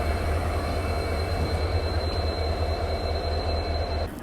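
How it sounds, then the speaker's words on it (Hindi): A Humsafar Express train hauled by a WDP 4D diesel locomotive rolls along, filling the space with a steady, loud rumble of wheels and carriages and a thin high whine running throughout. "मौला अली शेड का WDP 4D 40354 डीजल लोकोमोटिव्स तो भाई अलग लेवल का अट्रैक्शन है मेरे लिए।"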